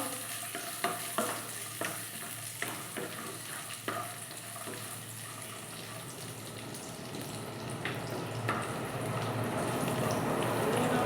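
Peanuts, cashews and raisins frying in a pan, a soft steady sizzle with a few sharp clinks and scrapes of stirring early on, the frying hiss growing slightly louder toward the end.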